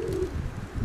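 Pigeons coo in a short, soft, continuous murmur, close by, with no talking.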